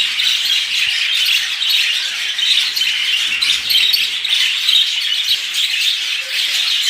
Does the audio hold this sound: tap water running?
no